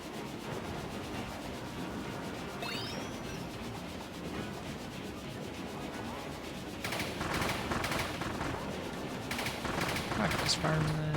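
In the Kirby platform video game, a gun fires in quick rattling bursts near the end, over a dense, steady game soundtrack and ambient noise.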